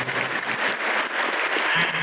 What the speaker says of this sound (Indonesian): Kita kasih tepuk tangan dulu buat keluarganya.